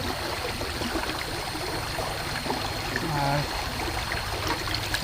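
A stream flows steadily at the spot where a kitchen knife is being sharpened during the rainy season, a constant close rushing trickle that fills the whole scene, with faint background sounds and brief voices mixed in.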